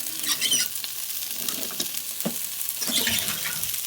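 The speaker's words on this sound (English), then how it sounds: "You want that sizzle. That sizzle means they're cooking." Carrot rounds frying in a pan with a steady crackling sizzle, soft patter and occasional clinks of stirring, fairly close and continuous with no talk.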